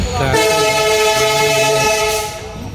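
A train rumbles past close by with a long, loud horn blast sustained over the noise of the wagons, fading toward the end.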